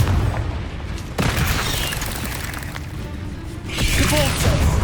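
Confringo fire-blast spell in the Hogwarts Legacy video game, booming explosive bursts with rumbling impacts amid combat sounds and no talk.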